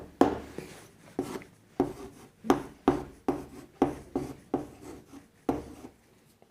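Chalk or marker scrapes across a board in a maths class, with about nine short rasping strokes at a steady rhythm, each followed by a brief pause.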